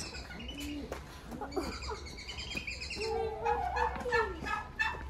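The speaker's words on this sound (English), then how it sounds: "They're just chickens. Mira, look at the duck." Chickens cluck and chirp with a duck among them at a restaurant in Mexico, a busy run of overlapping bird calls, close and fairly steady, growing denser toward the end.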